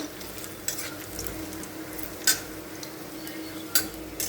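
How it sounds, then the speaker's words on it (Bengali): Banana flower koftas fry in hot oil with a steady, soft sizzle, punctuated by a few sharp clinks of a utensil against the pan. "দেখো কোফতাগুলো একদম সুন্দর হয়ে ভাজা হয়ে গেছে"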